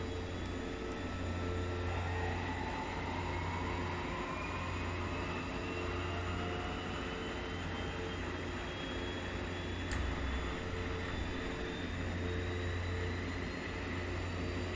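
The left engine of a Twin Otter spools up steadily in a flight simulator, giving a continuous droning whine with a rising tone over a low, steady rumble, without talk.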